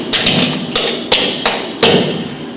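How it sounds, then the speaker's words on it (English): Buck dancing feet tap out a fancy double step on a hard floor, five crisp, close thumps in an uneven, syncopated rhythm with short ringing decays. "A fancy double step looks like this."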